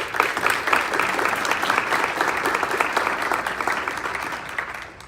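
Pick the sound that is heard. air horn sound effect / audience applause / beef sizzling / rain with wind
audience applause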